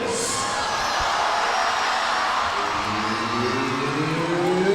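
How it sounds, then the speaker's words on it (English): An arena crowd at a college gymnastics meet between Georgia and LSU keeps up a steady roar of cheering and whooping, with a voice heard faintly within the din. "And the crowd is pumped up."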